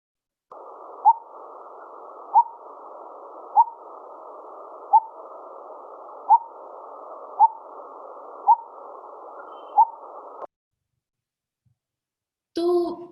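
A recorded bird call plays from an interactive bird poster: a steady buzzing trill with a regular sharp note repeating roughly every second for ten seconds, then silence and a brief voice.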